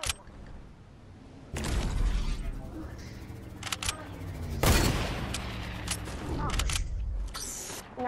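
Fortnite gunfire, loud sharp shots and bursts starting about a second and a half in, with scattered cracks and a big blast near the middle, against a quieter game background.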